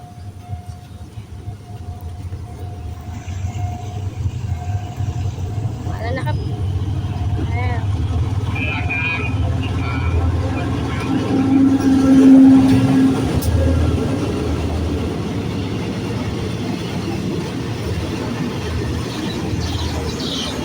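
Local train 418 with diesel locomotive GEA 4532 passing a trackside spot, a low engine rumble and rolling wheel noise building steadily to a peak midway before easing slightly, with someone talking over it.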